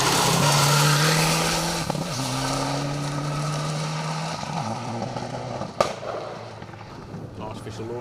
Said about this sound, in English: Artificial Lawn Company sponsored car, popping and banging